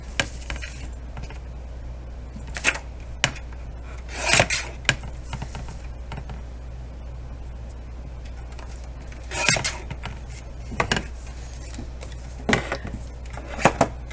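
Regular cardstock being cut to a 3.5 by 5 inch piece for a mini journal pad backing: scattered short rasping, scraping strokes, close and fairly crisp, over a steady low hum.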